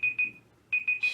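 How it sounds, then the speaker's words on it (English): A kitchen-style timer alarm rings in quick repeated bursts of shrill beeping, with a short pause between groups, fairly loud and close with no talking over it. "There goes my timer."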